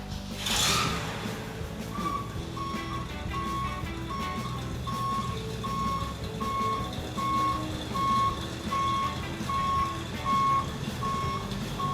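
A truck backing up on a dirt site, its steady reversing beeper repeating at a regular pulse over a low engine rumble, with outdoor ambience and no talk.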